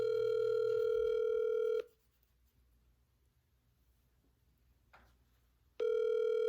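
Outgoing phone call ringing on the line: two long buzzing ring tones separated by a few seconds of near silence, with a faint click in the gap.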